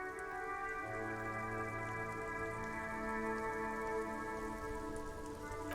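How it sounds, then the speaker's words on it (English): In the video game Disco Elysium, rain falls on the white and blue police livery of a motor carriage. A soft, continuous patter of drops sits beneath sustained, droning musical tones. "Droplets of rain fall on the white on blue police livery of the motor carriage."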